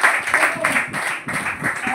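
An audience at an indoor gathering claps for a teacher, a brief, dense burst of many hands applauding together at close range.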